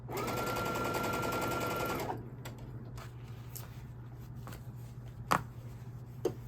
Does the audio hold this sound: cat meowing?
no